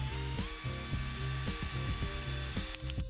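A small drill whirs steadily up close while drilling out the rear rivet of a Matchbox Jaguar Mk 10 die-cast model, with a quiet, even motor tone and a faint rhythmic pulsing.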